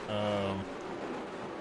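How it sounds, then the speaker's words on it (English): Rain falls in a racing video game during an Austrian Grand Prix league race, a steady soft hiss that carries on after a brief tonal engine-like hum at the start. "But it is raining, so yeah, that could be a little tough."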